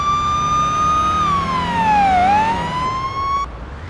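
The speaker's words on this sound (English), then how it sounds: "let's put our siren on." A police car siren from the Police Simulator Patrol Officers video game wails loudly and alone, holding a steady tone, dipping and rising once, then cutting off near the end.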